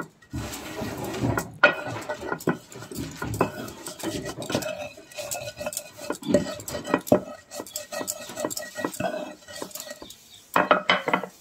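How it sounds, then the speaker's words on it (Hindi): Spices being coarsely ground by hand for Rajasthani lemon pickle, with irregular knocking, scraping and clattering strokes close by, alone with no talk. "तो मसाला पीस लिया है"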